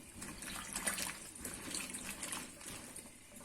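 Fava beans being rinsed under running water in a colander, a steady close splash and trickle with no talk.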